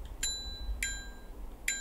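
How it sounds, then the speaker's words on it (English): Bell ringing in the horror video game The Bridge Curse 2: three bright, clear metallic dings, evenly spaced and each ringing out briefly, over a low background hum. "I didn't mean to ring the bell"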